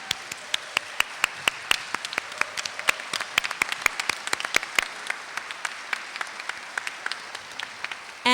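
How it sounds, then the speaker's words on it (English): An audience applauds actors after a school writing-program performance, a steady spatter of many hands clapping that thins out toward the end. "Let's give a big hand to our three wonderful actors, Charlotte, Dawn, and Kevin."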